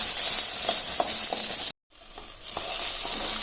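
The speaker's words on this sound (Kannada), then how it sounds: "ಇಷ್ಟನ್ನು ಫ್ರೈ ಮಾಡ್ಕೊಳ್ಳಿ" Garlic and onion frying in a pan for a garlic chutney, a steady close sizzle with faint stirring, broken by a brief silent gap before the sizzle resumes slightly quieter.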